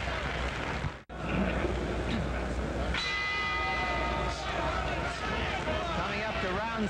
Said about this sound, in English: The bell ending round six.